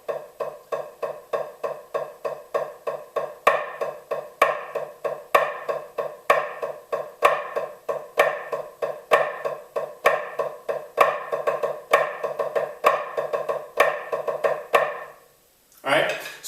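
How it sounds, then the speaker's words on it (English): Snare drum plays a flam drag rudiment exercise, crisp repeated grace-note strokes in an even driving rhythm, close and steady, ending with a short pause. "So we're going to play 4 flam drags."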